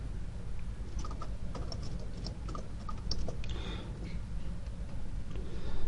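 Soft, quick keyboard clicks come in uneven bursts as JavaScript code is typed on a computer keyboard. They are faint and sit over a low room hum.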